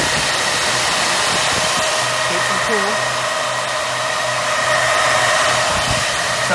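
Amplifier cooling fans switched on behind a big audio system setup, giving a loud, steady airy whoosh that holds unbroken near the listener, with a faint low hum underneath.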